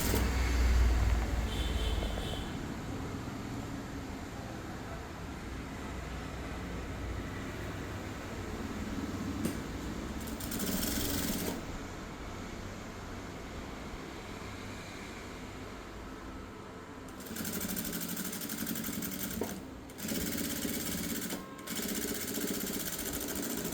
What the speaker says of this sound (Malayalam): എന്നിട്ട് നമ്മളിത് കറക്റ്റ് ചെയ്ത് സ്റ്റിച്ച് ചെയ്യാം